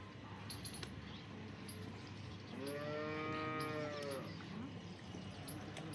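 A cow on a dairy farm gives one drawn-out moo lasting under two seconds, heard against steady farmyard background noise with faint high chirps around it.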